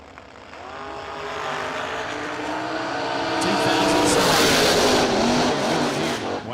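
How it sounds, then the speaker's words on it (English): Race cars scream down a drag strip at a memorial race, the engine roar climbing steadily in pitch and loudness as they accelerate away. "Whacking the throttle on the big end of the racetrack"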